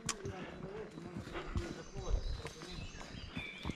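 A horse at a slow walk on a leisurely trail ride through branches, hooves clip-clopping in an even, moderate-volume rhythm, with voices faintly present underneath.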